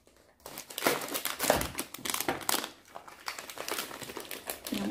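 Plastic wrapper of a pandan mochi snack crinkles and crackles close up as it is opened, in irregular bursts of dense rustling over nearly five seconds.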